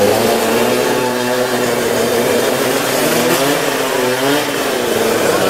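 Two race engines run together at a drag-racing final, a loud, close, sustained buzzing drone that rises and falls as the throttles are blipped, with no speech over it.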